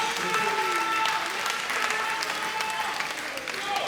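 Dense, steady clapping from a comedy show audience, loud and continuous, with crowd noise and some voices mixed in.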